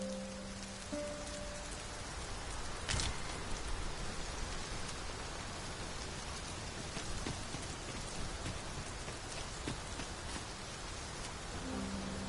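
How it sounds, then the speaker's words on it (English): Heavy rain downpour pouring steadily on surfaces, a dense continuous hiss of drops with one sharp louder crackle, alone with no talk throughout. "We must be really down on our luck to get caught out in such a downpour."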